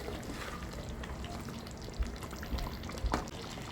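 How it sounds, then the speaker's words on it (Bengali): Chicken korma with green chillies being stirred in a pot, a soft bubbling simmer running throughout, with a couple of low knocks and a scraping stroke of the spoon toward the end. "সব কিছু একসাথে এবার নাড়িয়ে দেব"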